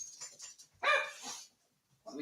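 A dog barking indoors: a couple of soft yips, then one louder bark and another starting at the end, with faint voice-like sounds around it.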